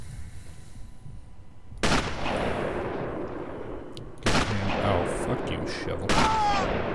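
Gunfire in Sniper Elite: three sharp, loud shots spaced roughly two seconds apart, each followed by a short decaying tail over a low battlefield ambience with faint high tones.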